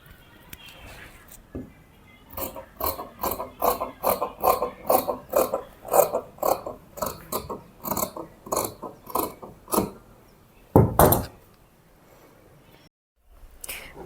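Scissors cut fabric for a twelve-panel palazzo garment, making a run of about a dozen crisp, evenly spaced snips up close, then a pause and one louder final cut.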